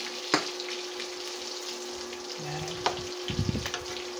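Ingredients browning in a pan make a soft, steady sizzle, with a few brief clicks and a low rumble of handling near the end.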